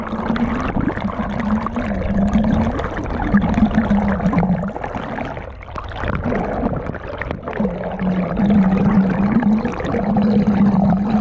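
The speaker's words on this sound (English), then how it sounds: "This is the water." The Umngot River in Dawki, Meghalaya flows in a constant, fairly loud rushing wash with a low rumbling undertone, steady throughout with no speech.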